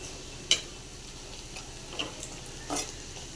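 Vegetables fry in oil in a pan with a soft, continuous sizzle, broken by a few brief clinks and scrapes from stirring.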